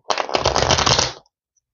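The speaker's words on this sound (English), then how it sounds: "1, 2, and 1 more shuffle." Tarot cards riffle-shuffled in a quick, close, papery burst lasting about a second, followed by silence.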